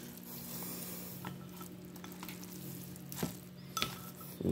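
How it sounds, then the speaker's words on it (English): Noodles being stirred in a pan while cooking, a quiet steady sizzle under a low hum, with a few soft scrapes and a light clink toward the end. "it's actually a very good way of stirring"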